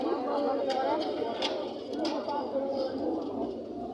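Pigeons coo softly at an outdoor pigeon market amid a steady crowd murmur and people talking, with occasional sharp clicks and rustles in a busy open space.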